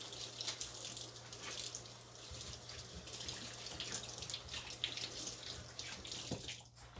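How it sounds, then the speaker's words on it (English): Hands are washed under a steadily running kitchen tap, water splashing continuously into the sink at close range with a low steady hum beneath, and no voices. "Wash my hands."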